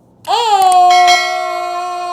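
Notification bell sound effect: a bright, loud ringing chime that strikes once and holds a sustained tone, close and clear.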